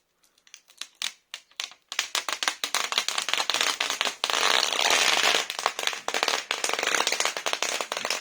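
Protective film peeled off an ASUS TUF VG34VQL1B monitor: sharp crackling snaps, first a few separate pops, then a dense, loud, continuous crinkling tear with rapid ticks, close up and without talking.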